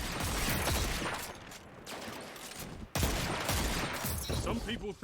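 Shotgun fire from a video game pounds in heavy, loud bursts, near and dense, with a short gap before another blast and talk faintly mixed underneath.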